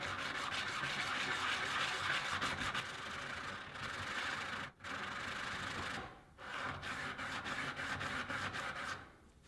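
Blade being sharpened on a 1000 grit Ash & Co diamond stone: a steady, close, raspy scraping that continues over several seconds, with two brief pauses between runs of strokes.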